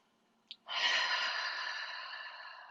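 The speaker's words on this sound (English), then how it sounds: "Breathe in through your nose and open your mouth to exhale" A slow, deep breath drawn in and let out audibly as part of a calm yoga breathing exercise. One long, steady airy exhale swells after a brief sharp intake and fades slowly, close and alone.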